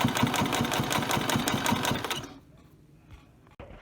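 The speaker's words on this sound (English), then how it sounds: "I'm just going to stitch all the way down this hem." A sewing machine stitches along the hem of a fabric face mask, a fast, steady, close mechanical chatter lasting about two seconds, then it stops and is followed by quiet handling sounds and a soft click.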